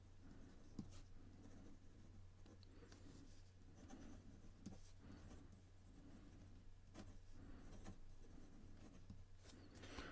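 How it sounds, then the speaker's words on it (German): Jinhao 9056 fountain pen with a fine-to-medium nib writing on 160 gsm paper, a soft continuous scratchy scratching with light feedback and occasional taps, close and quiet, with no talking. "Dann werden wir mal den Schreibtest machen und ihr könnt mal zuhören."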